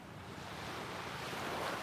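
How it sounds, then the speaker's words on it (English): Ocean waves wash steadily on a calm morning, a soft continuous hiss of surf that swells slightly toward the end, faint and unbroken, with no voices. "The waves are so relaxing."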